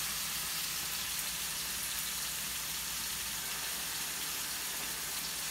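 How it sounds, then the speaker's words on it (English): Steak sizzles in a hot pan, giving a steady, dense, crackling hiss that stays even and close for the whole stretch, with no talking. "Did you see that sizzle?"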